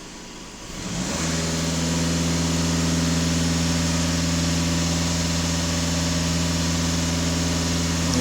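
A VW Golf 2.0 TDI diesel engine climbs from a low idle into a loud, sustained full-throttle roar after about a second, steady and close for the rest of the stretch.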